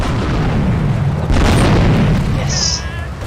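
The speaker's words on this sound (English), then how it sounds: "We wasted, or we used two grenades, and that did the job for us." Grenade explosions in the GTA 3 video game with the Liberty City 98 mod, a loud booming blast rumbling through most of the short span, a second burst following midway, all fairly close and dense.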